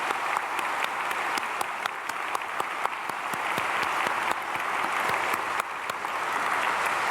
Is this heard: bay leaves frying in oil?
no